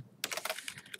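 Computer keyboard typing during a web design class, a quick run of close, crisp key clicks that starts after a brief silence and continues steadily with no talking.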